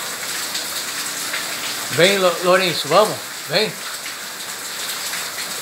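Steady rain falls continuously while a parrot bathes in it outdoors, a dense, close hiss throughout, with a person calling out briefly over the downpour.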